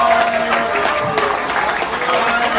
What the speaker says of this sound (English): Ordinary German men and women stood here and applauding them